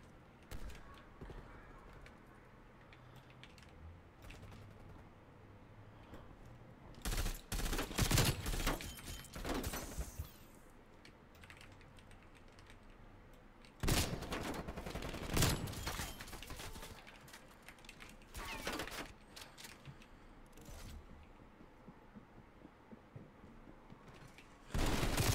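Video game gunfire comes in several sharp rapid bursts separated by quieter stretches, fairly faint overall against low background noise.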